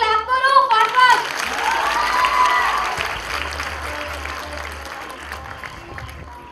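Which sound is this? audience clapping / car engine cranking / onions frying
audience clapping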